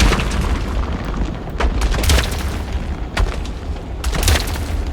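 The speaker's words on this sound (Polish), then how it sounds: "A wulkan wybucha, dobra." A volcano erupting in a shipping-lanes video game, heard as a continuous loud rumbling roar with repeated booming bursts throughout, with no voices over it.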